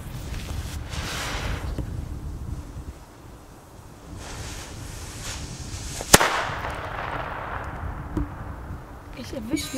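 A Cobra Mini Italian firecracker goes off with a single sharp, loud bang outdoors amid gusting wind noise, while people talk before and after.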